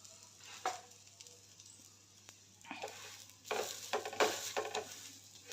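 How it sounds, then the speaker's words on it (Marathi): A sweet corn paratha roasts in oil on a hot pan, a quiet sizzle that swells into louder bursts of frying and spatula pressing toward the end, close up with no speech. "दोन्ही बाजूंनी तेल लावून चांगलं भाजून घ्यायचं आहे"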